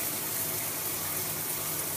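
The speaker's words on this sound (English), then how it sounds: "Next, I'll head straight to the shower." A shower running in a bathroom during a morning routine, a steady, even hiss of spraying water that stays constant throughout, close and uninterrupted.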